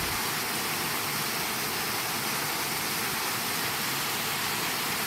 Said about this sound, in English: I don't know if the noise of the waterfall is too much while I'm standing here